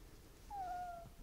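A mother cat gives a single soft, rising meow, calling to her kittens, faint against a quiet room.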